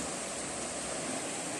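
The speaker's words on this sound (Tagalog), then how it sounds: "Maganda yung daloy ng ilog ngayon" River water flowing after several typhoons, a steady broadband rush and hiss of moving current close by, continuous and even throughout with no voices.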